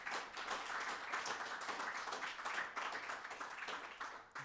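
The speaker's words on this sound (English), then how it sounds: "So if we can get a round of applause for everybody that presented their project." A conference audience in Brussels claps in a sustained, fairly faint round of applause for presenters, dense and even for several seconds before trailing off.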